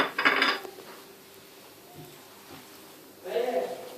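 Chicken ball mixture of ground chicken, breadcrumbs, salt, pepper and spices being stirred in a bowl, with two short bursts of clinking utensil-on-dish scraping near the start and end, quiet in between.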